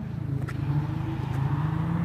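A car engine idles and hums steadily up close on a wet day with light rain, a continuous low drone with slight rises in pitch.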